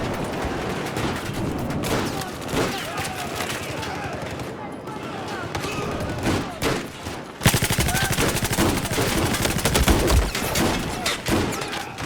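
Continuous heavy gunfire in Battlefield 4, loud and chaotic throughout, with dense automatic bursts that intensify partway through, mixed with game noise and faint talk underneath.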